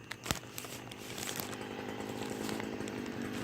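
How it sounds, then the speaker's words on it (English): A string trimmer runs outdoors at a distance, its high buzzing engine drone steady and faint under a quiet setting, with a brief knock near the start. "My uncle is using the weed eater"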